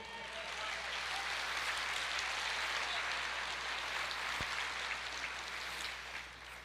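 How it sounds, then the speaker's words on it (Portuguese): A church congregation applauds during a Portuguese-language worship service, a dense, steady wash of clapping that holds at an even level for several seconds before easing slightly at the end. "Glória a Deus, aplauda ao Senhor."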